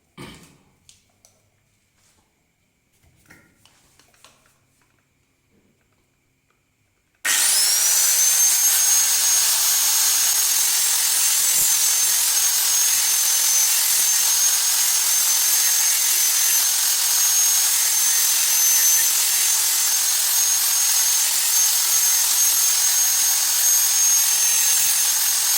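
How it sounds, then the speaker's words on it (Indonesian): An angle grinder scrapes wood inside a swiftlet house, starting abruptly after a quiet stretch with a few faint knocks and then holding a loud, continuous, high-pitched whine and hiss to the end. "kemudian kita kikis lagi menggunakan mesin gurinda."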